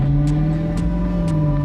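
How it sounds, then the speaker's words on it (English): A GM LT1 engine paired with a 10-speed automatic, fitted in a 2000 Land Rover Defender 110, runs with a steady, close-up mechanical hum and even tone throughout, with faint ticking bursts above it. "Beneath the hood, an LT1 engine with a 10-speed automatic transmission delivers relentless"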